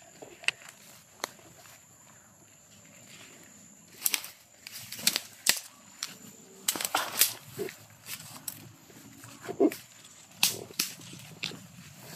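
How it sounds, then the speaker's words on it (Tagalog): Several sharp, distant bangs crack out irregularly across a quiet outdoor background, some in quick clusters, others spaced apart, with no talking. "So, may putok sa unahan yos. May mga barilan sa unahan."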